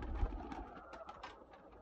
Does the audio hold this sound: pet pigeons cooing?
yes